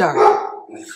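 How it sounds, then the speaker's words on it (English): A pet dog barks sharply at someone at the front door, a loud, close yelp overlapped by a person's spoken word, with a short tail of sound after it. "I'll take a break and go figure out what she's barking at."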